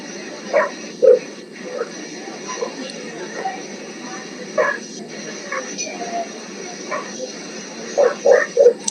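Several dogs bark and yip in the background, short bursts scattered through the stretch with a cluster near the end, under ongoing conversation.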